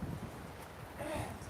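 Steady, broadband roar of strong wind buffeting an outdoor microphone at a live ultramarathon finish in pouring rain and 30-mile-an-hour gusts, continuous and close, with no clear speech.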